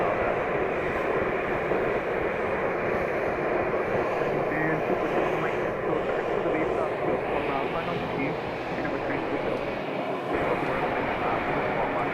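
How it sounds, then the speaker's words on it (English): A Cessna Citation Latitude business jet run by NetJets passes near Scottsdale, a broad steady engine roar holding level throughout at fairly close range. "We have another exec jet, net jets, citation latitude Cessna."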